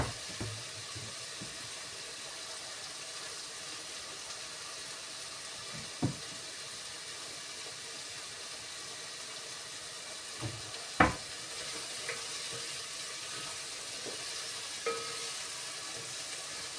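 Meat sizzles and fries in a pan with garlic and onion, a steady faint hiss with a few soft clinks and taps of a utensil against the pan, no voices.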